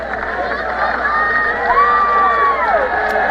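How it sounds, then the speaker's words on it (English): A football crowd at an opening game swells with cheering and shouting while a public-address voice speaks over it. Whistling tones rise through the noise as the Yellow Jackets pump up the stands. "As the Yellow Jackets are getting the crowd pumped up"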